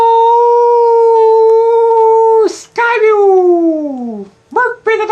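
A dog gives a loud, close, sustained howl on one steady pitch, then breaks into a long whine that slides downward and ends with a short yelp.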